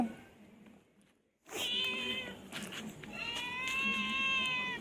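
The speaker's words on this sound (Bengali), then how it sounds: "ম্যাও ম্যাও" A cat meows twice up close, a short cry followed by a longer, wavering one, over a soft room background with light indistinct noise.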